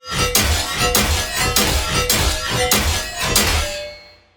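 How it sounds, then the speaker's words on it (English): A string of sharp whooshing swings, each ending in a metallic hit, repeats roughly every half second, with a ringing tone fading out at the end. "This is how it sounds with the swing and hit together."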